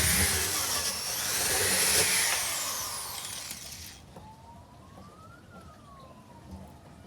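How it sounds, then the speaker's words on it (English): A hole saw cuts a hole sized for a 15mm bulkhead fitting into a blue plastic rainwater barrel, giving a loud, steady power-tool whine that stops after about four seconds and leaves a faint background tone. "I'm going to drill a hole in accordance with that diameter."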